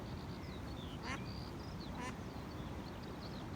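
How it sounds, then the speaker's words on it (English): Ducks quack twice beside water near an old mill house, short nasal calls heard against steady background noise and faint distant chatter. "I actually fancy that duck there"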